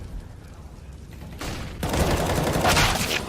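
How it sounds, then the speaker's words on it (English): Gunfire in a Counter-Strike match: quiet background at first, then a sudden loud volley of shots and continuing sustained fire up close. "nice shot from Sticko. Really big one as well"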